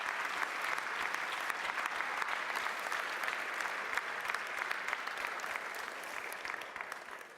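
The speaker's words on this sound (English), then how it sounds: "Let's give him a round of applause." Steady applause from a crowd at a roast event, sustained clapping at an even level for several seconds before tapering slightly at the end.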